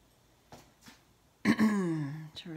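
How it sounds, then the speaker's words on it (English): A couple of soft throat noises, then a louder, drawn-out throat clearing close to the mic. "Sorry about clearing my throat."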